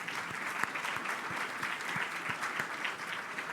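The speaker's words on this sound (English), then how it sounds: "Big round of applause for both of them" Audience applause at an urban forum, steady broadband clapping from a hall crowd sustained evenly throughout, no voices over it.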